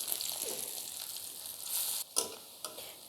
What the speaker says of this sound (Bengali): তেল গরম হয়ে গেছে, এখন আমি পেঁয়াজ দিয়ে দিচ্ছি।